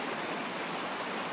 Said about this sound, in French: Donc voilà la rivière.